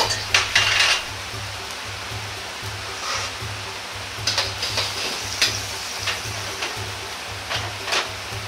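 Edamame tipped into a pan of fried rice and stirred, with a low sizzle running throughout and repeated scraping and clinking of a utensil against the pan in irregular bursts.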